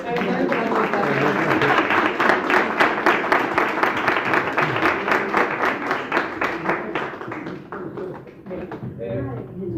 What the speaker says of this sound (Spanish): Pero te mereces un aplauso.